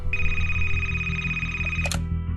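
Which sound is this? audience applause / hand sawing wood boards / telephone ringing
telephone ringing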